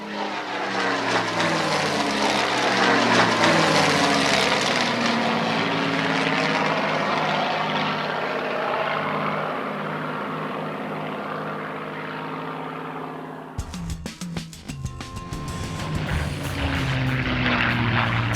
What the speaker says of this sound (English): with a whir of the starter motor, the legendary Merlin cranks into life